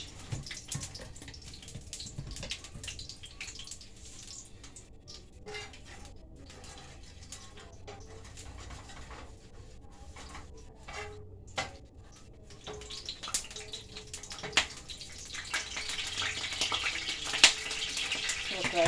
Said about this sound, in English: Okay, I put the water in my pot.